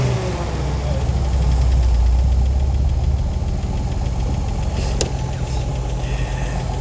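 A Jensen 541 S engine idles steadily with a low, even rumble, smooth and continuous throughout, with a faint click near the end.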